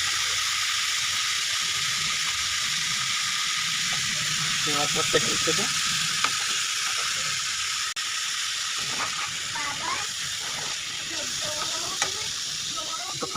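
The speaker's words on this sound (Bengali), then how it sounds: "আর ওই তাওয়াটার মধ্যে ডিম ভাজা হবে।" Eggs frying on a tawa give a continuous bright sizzle and hiss alongside other cooking in the kitchen. A person speaks over it in the middle and later part.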